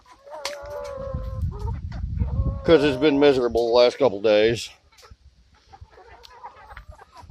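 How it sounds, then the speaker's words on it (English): Baby chickens cluck and peep in a short burst of wavering, chirpy calls close by, with a person speaking over and around them. "These little baby chickens"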